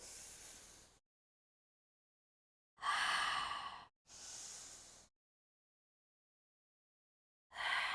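Deep, audible breaths during a Pilates exercise for ankle mobility, with a foam roller and dumbbell in use: a long exhale, then two strong breaths in a row and a final one, each separated by silence, fairly faint.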